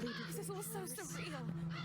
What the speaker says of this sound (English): All the birds will yell at us.